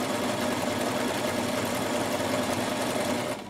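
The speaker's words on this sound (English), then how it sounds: "if I want to do the triple zigzag, I go right back to stitch number 3, does a beautiful triple zigzag." Bernette Rome 3 sewing machine running a triple zigzag stitch, a steady fast mechanical whirring hum with rapid needle ticks, close and alone, stopping right at the end.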